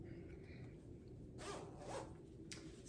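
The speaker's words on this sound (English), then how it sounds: "The pockets zip." A pocket zipper on a piece of clothing is zipped in a couple of quick, close rasping pulls, with a brief catch near the end and no voices.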